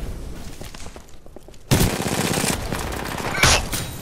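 Sniper rifle fire in Titanfall 2 sounds as a sharp loud blast partway through, followed by sustained noisy gunfire and a second strong report near the end.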